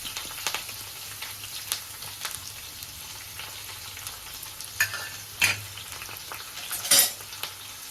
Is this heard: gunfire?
no